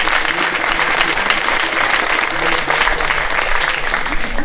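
Loud, continuous applause from a crowd at an end-of-year parish celebration, dense clapping filling the room evenly, with a faint voice underneath.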